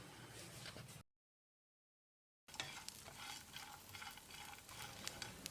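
Spices and coconut sizzle and crackle in a hot pan, steady sautéing with occasional stirring scrapes, interrupted by a brief silent gap.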